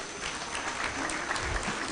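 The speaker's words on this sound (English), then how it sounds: "A round of applause." A short stretch of scattered clapping from a crowd at a general assembly, moderately faint and steady, with no talking over it.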